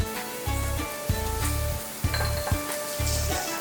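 Finely ground shallots sizzle steadily as they heat in a pan. A bright frying hiss runs throughout, with regular low thumps and clinks of a utensil against the pan. No one speaks.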